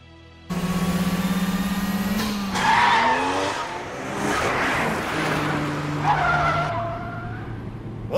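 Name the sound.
car driving with tire squeal in Wangan Midnight video game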